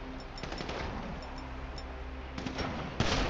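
Gunfire aimed at a helicopter in Grand Theft Auto V, a rapid, steady stream of shots over a droning rotor-like hum, with a louder burst near the end.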